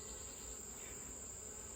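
A swarm of honeybees drones around an opened hive, a faint, constant high-pitched buzz with no gaps and no voices.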